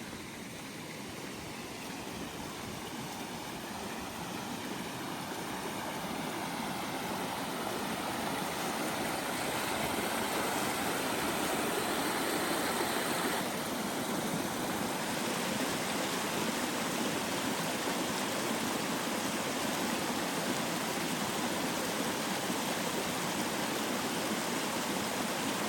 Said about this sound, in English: I feel like I hear a waterfall up here.